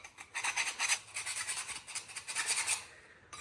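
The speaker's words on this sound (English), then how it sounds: "So I'm just touching them up with a file" A hand file rasps on metal keys in quick, rhythmic back-and-forth strokes, close and distinct, in a steady series of a dozen or so scrapes.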